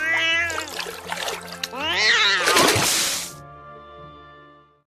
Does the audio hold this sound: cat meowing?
yes